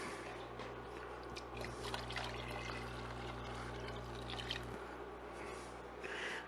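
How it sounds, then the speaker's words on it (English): Liquid pours into a pot of French onion soup as a soft, continuous trickling wash, faint and steady throughout with a low background hum and no talking. "I can probably pour the rest of this in"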